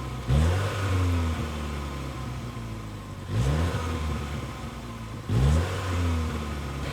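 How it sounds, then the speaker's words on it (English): A 2022 Mini Cooper John Cooper Works hot hatch with an 8-speed automatic revs its engine and exhaust three times in a row, each sharp rising blip fading back to a steady idle, heard loud and close. "Now let's get to the exhaust tunes of the 2022 Mini Cooper JWC."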